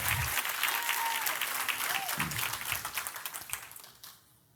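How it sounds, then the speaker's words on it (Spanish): Applause from a church congregation during a sermon rolls steadily, then thins into scattered claps before fading out, heard at a distance. "dale un fuerte aplauso al Rey de Reyes"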